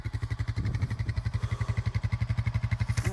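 A four-wheeler ATV engine idles in neutral with a steady, rapid low thumping pulse that runs close and loud throughout, ending with a brief rise in hiss.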